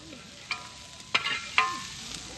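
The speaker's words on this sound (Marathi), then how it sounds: "कांदा आता चांगला भाजून घेतलाय" Onion roasting on a hot griddle sizzles softly and steadily, with a few sharp scraping clicks from a utensil.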